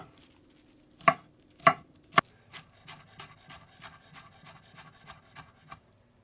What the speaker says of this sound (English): I'm going to chop some green onion